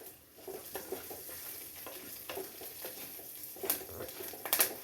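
Curry leaves sizzle and crackle in hot oil for a fish curry, a fairly quiet, continuous frying hiss with sharp little pops scattered throughout and stirring sounds, no voices.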